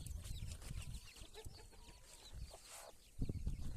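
Chickens and roosters cluck and call in a busy, overlapping flurry, fairly close, with outdoor farmyard noise around them and no talking.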